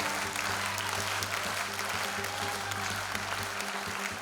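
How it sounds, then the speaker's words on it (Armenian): An audience at an evening dance studio concert claps in sustained, dense applause for a young performer, a steady wash of many hands at even loudness from start to finish. "Եվս մեկ անգամ բարձր ծափարենք Վարդանին"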